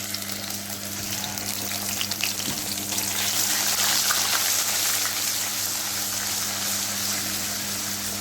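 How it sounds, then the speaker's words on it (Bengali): Ginger-garlic paste sizzles and crackles in hot oil with a steady, dense hiss that grows slightly louder and continues without pause. "আদা রসুনটা খুব ভালো মতো ভেজে নিলাম"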